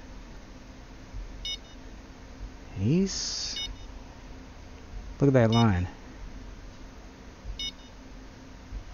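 A fishing rod bite alarm in the Fishing Planet video game, set up for bottom fishing for lake trout and burbot. It gives slow, evenly spaced electronic beeps while someone talks between them.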